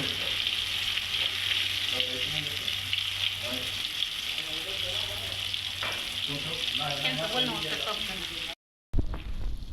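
Coriander vadi fries in hot oil with a dense, continuous close sizzle and occasional stirring, a faint voice underneath, before a brief cut near the end.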